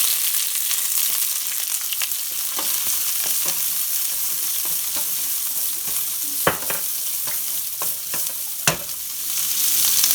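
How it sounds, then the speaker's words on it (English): Onions hit hot oil in a pan for a South Indian sambar with methi and curry leaves, crackling in a steady low sizzle broken by occasional sharper pops and stirring clicks. "Let's add the onions."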